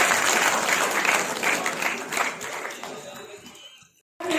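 Enthusiastic clapping fills a hall at a university poetry gathering as a poet is called up to recite, a dense crowd applause that tapers off and then cuts to sudden silence near the end.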